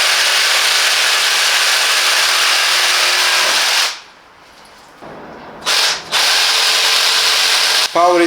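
Parkside 20V cordless jigsaw with pendulum action cutting wood: loud, dense buzzing saw noise that cuts out for about two seconds, leaving a low hum, then starts up again close by.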